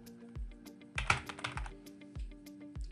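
Computer keyboard keys being typed in a quick burst of clicks, with a denser flurry of keystrokes in the middle, close and clear with no voices.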